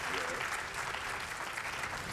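An audience at the AGDQ 2019 speedrun charity marathon applauds steadily for a donation, a dense, even wash of clapping that holds throughout without pause.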